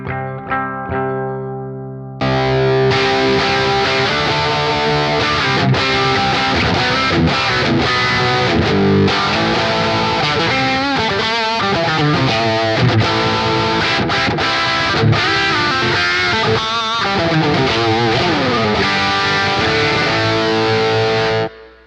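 Electric guitar driven through a Wampler Pantheon Dual Overdrive Deluxe pedal with distortion engaged, loud saturated chords and riffs ringing out continuously after a brief clean-sounding start, thick and sustained with no talking.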